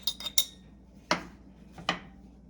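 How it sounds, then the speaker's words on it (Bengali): Metal fork scraping and clinking against a dish while pushing ingredients aside for a homemade cold and cough remedy, a few quick clatters at the start followed by two sharper isolated clinks, close and fairly quiet with no talking. "এখন আপনি একটা কাঁটা চামচ দিয়ে এগুলোকে সাইড করে দিবেন।"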